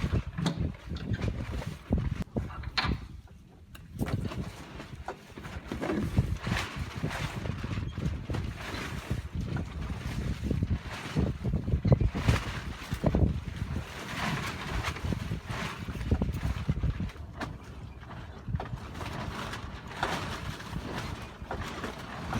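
Wind gusts across the microphone outdoors beside an FLD truck, rising and falling in bursts throughout with brief lulls, fairly quiet overall.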